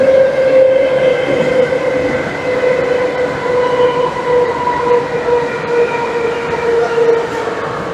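A Moscow metro subway train runs loudly underground with a sustained droning whine and steady rumble throughout, wheels and motors humming without letup.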